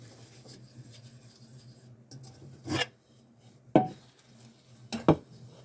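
Soapy steel wool scrubs a stainless steel pan in three short, harsh rasping strokes spaced about a second apart, close and fairly loud, over a quiet hum.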